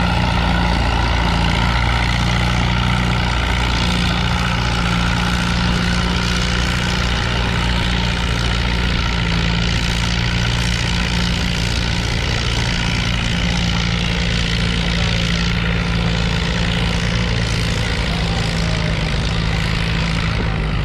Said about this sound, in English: It's a new tractor. Beautiful tractor.